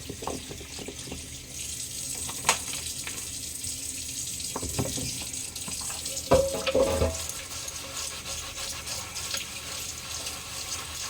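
Running water from a kitchen tap pours steadily into a sink during washing, with occasional clinks and splashes of dishes or utensils, close and continuous throughout.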